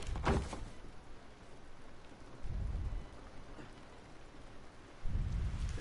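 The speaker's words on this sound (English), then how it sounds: "This rain ain't gonna do us any good." Steady rain hisses in the video game The Last of Us while deep rolls of thunder rumble at the start, middle and end, heavy and booming beneath the constant downpour.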